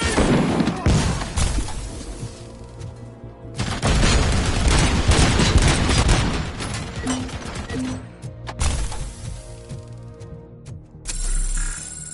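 A grenade blast and heavy gunfire from the RoboCop Rogue City video game roar as a dense, continuous barrage, loud and chaotic, with bursts of crackling fire and rumbling impacts throughout.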